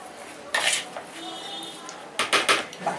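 A spoon scrapes and clinks against a bowl in several short bursts while mixing potatoes with ghee, close and fairly quiet.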